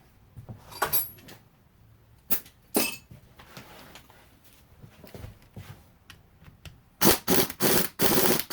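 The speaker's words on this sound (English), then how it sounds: "Let's go ahead and remove the oil pump." Metal parts clinking and knocking as an oil pump comes off a KTM 450SXF engine on a bench, with scattered close taps, a few sharp clanks early on and a quick run of loud clattering knocks near the end.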